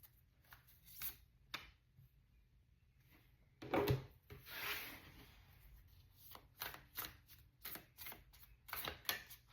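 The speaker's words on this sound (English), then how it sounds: "So just bear with me to get all the cards out." Tarot cards are shuffled and drawn by hand in a quiet room, giving soft, close riffles and slides in irregular bursts with a longer rustling stretch midway. No one speaks.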